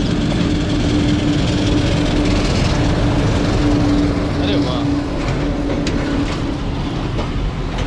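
Diesel train of three wooden coaches running on rails, with a loud continuous rumble and rattle of the carriages, a steady engine drone and faint clickety-clack throughout.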